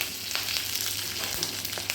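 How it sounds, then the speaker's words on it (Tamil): Steady crackling sizzle of curry leaves dropped into hot oil, with sharp pops scattered through, close and fairly loud, no voices. "பொறிஞ்சதுக்கப்புறமா இதில் அரை டீஸ்பூன் வந்துட்டு கருவேப்பிலை ஆட் பண்ணிக்கலாம்"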